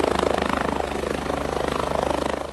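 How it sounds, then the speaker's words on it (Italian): Firefighters' helicopter Drago 81 flying overhead on a flood and avalanche-risk patrol, a steady loud rotor chop with a fast pulsing beat filling the whole moment. "A monitorare la situazione dall'alto è l'elicottero Drago 81."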